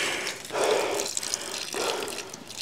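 Water running hard from a hose into concrete mix while a screened patio is enclosed for a sunroom, a steady rushing splash that swells in surges, close and fairly loud, with no talking.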